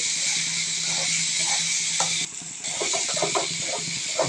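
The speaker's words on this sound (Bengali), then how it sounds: "ভালো করে নাড়াচাড়া করে নিতে হবে পেঁয়াজটা ভালো করে ভেজে নিতে হবে" Onions frying in a pan for a Bengali tengra fish do-peyaja, with a steady close hiss and sizzle and repeated scraping stirs that briefly dip mid-way before the sizzling picks back up.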